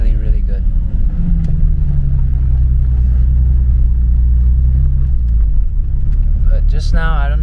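A BMW E34 M5 with a standalone ECU roars loudly on a dyno under heavy throttle near 4,000 rpm, a deep, sustained rumble with a slight misfire, close up; the engine noise drops away near the end.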